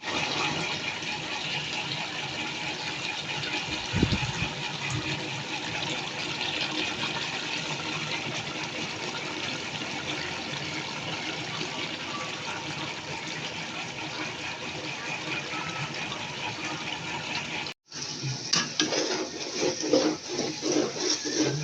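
Water gushes steadily from a tap during washing in a home kitchen while chicken curry is being made, a constant close rush that cuts off briefly near the end before resuming.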